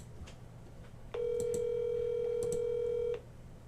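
An unanswered outgoing telephone call ringing: one steady electronic ring tone lasting about two seconds, clear and close through the handset, between stretches of faint line noise, with no talking.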